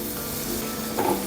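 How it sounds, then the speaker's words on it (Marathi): Modaks deep-frying in hot oil over a medium gas flame give a steady, soft bubbling sizzle throughout, swelling slightly louder for a moment near the end, with no voices. "मिडियम गॅसवर तळते"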